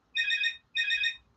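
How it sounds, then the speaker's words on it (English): A mobile phone rings nearby with two identical electronic bursts separated by a short pause, clear and moderately loud against a quiet room, with no voices. "That's my phone"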